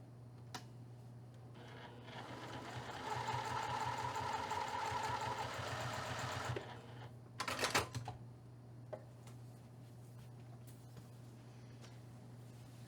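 A sewing machine stitches a quarter-inch seam through quilted fabric patchwork at a lengthened 3mm stitch, a rapid mechanical whir lasting a few seconds over a steady low hum, followed by a short clatter and scattered small clicks.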